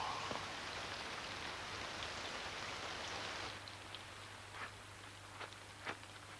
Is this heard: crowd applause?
no